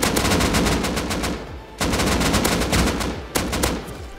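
Automatic rifle fire in the survival game Rust, loud rapid bursts of gunshots in quick succession, separated by two short pauses, close and dominant.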